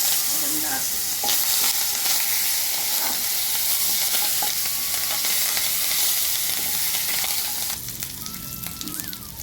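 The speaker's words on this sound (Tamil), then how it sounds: "கடுகு நல்லா வெடிக்க ஆரம்பிச்சிச்சு" Mustard seeds crackle and splutter in hot oil for tomato kothsu, a dense continuous sizzle with scattered pops that eases slightly near the end.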